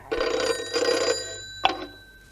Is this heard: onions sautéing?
no